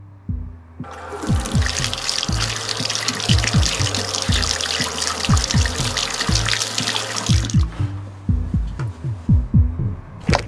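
Tap water runs steadily for a hand wash in the SAD RPG video game, a loud continuous gush over a looping low rhythmic soundtrack, then cuts off and leaves the music alone.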